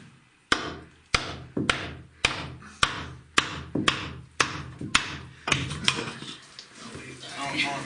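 A hammer taps on a capped core sampling tube in a cave, about a dozen sharp, evenly paced knocks close by, with a few voices talking faintly.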